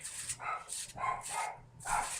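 A dog barks indoors at close range, four or five sharp, separate barks in an uneven rhythm with short gaps between them.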